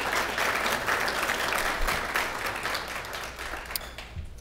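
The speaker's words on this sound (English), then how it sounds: "So if you could please give an applause for the work" Steady applause from a crowd fills the room, a continuous patter of many hands clapping at an even level throughout.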